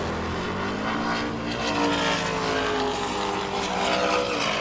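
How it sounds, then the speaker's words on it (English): A drag racing car powered by a 600 cubic inch Dart engine roars loud and steady at a Sydney Dragway championship round, a continuous harsh engine drone swelling slightly toward the end. "Little 600 cube dart motor in Lisa's car."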